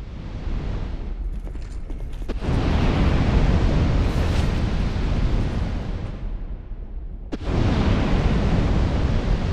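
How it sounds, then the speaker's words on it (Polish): Fireworks burst in Dark Souls 2 as loud, roaring blasts that swell into a long, dense rumbling wash, cut by a sudden drop and then a fresh surge, with no voices. "Fajerwerki."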